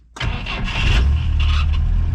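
A Volga GAZ-21 car engine, started without throttle after winter storage, cranks briefly and catches, settling into a loud, rumbling idle close by.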